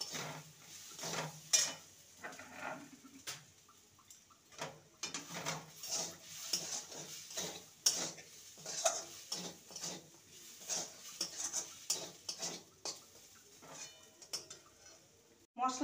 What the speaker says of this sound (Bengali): মশলাগুলো নেড়ে নেব।